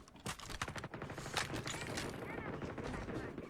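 Rapid bursts of gunfire in the Honor of Kings mobile game, a dense, continuous rattle of shots close up, with faint voices underneath.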